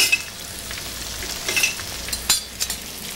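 A fluke fillet frying in a pan: continuous close sizzling hiss with a few brief scrapes and crackling bursts, no voices.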